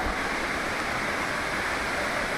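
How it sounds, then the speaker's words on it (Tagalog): Hulugan Falls, the highest waterfall in Laguna, pours in a steady, dense broadband roar that fills the scene evenly without a break. "Kita na yung agos. Yung falls."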